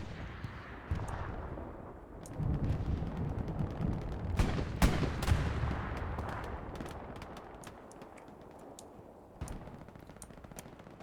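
Gunfire rings out in the World War II shooter game Hell Let Loose during a night match, with rapid bursts and sharp single cracks mixed with heavier booms over a rumbling battlefield backdrop, some shots near and loud, others distant.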